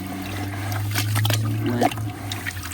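Water swirls as black sand is stirred in a new aquarium, giving a steady, close sloshing and trickling with a constant low hum beneath and small splashes near the end.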